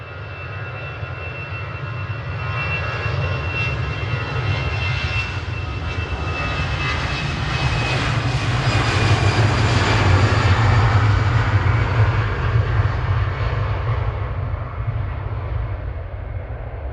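An Ethiopian Airlines Airbus A350-900 taxis out at Manchester Airport, its jet engines producing a loud, steady roar and whine that swells gradually toward the middle and then eases slightly, with no voices.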